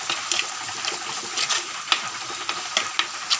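Shrimp masala for a Kerala chemeen mulakittathu is stirred with turmeric powder in a pan of hot coconut oil, giving a steady sizzle broken by repeated scraping stir strokes, close and clear with no talk.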